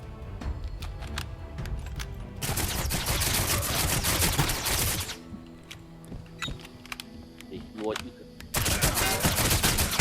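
Gunfire in the shooter Level Zero Extraction: a sustained automatic burst, then scattered single shots and short volleys among game sounds, ending in another heavy burst.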